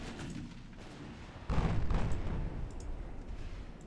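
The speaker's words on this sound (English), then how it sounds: "main gun blew up." In the naval battle game Ultimate Admiral Dreadnoughts, a warship's main gun blows up in a deep rumbling explosion that swells suddenly out of a low background roar and lingers.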